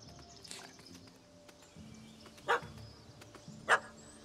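A dog in the video game The Witcher 3 gives two sharp, separate barks a little over a second apart, standing out clearly above a quiet ambient background.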